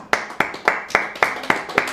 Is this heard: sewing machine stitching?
no